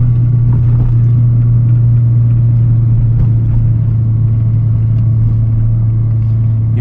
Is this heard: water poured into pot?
no